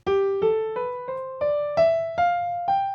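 A keyboard plays an ascending Mixolydian scale of eight notes starting on G, one at a time at an even, unhurried pace, clear and close.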